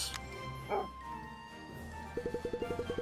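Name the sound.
dog barking in the video game Cat Quest 2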